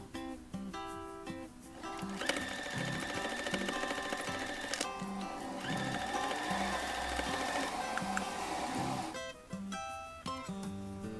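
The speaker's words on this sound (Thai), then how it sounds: "เราจะเย็บกดย้ำเย็บเลยไป เย็บเลยไปถึงจุดนี้ย้ำจ้ะ" A sewing machine runs a reinforcing seam across a homemade face mask. Bursts of rapid, even stitching come close up, with short quiet gaps between them.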